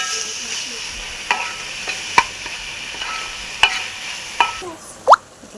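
Vinegar, soy sauce and Manchurian balls being stirred in a pan with a faint sizzle, punctuated by several sharp spoon clinks and a louder scrape near the end, up close.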